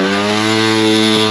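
A motocross motorcycle engine drones loud and close at a steady high pitch, strained and hot after a backflip attempt at a foam pit, with no talking over it.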